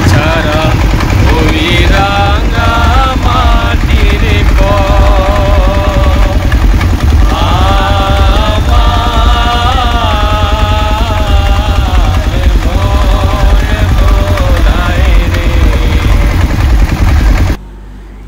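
The engine of a hired boat touring Nikli haor chugs loud and steady throughout, with several people's voices talking or singing over it until it cuts off near the end.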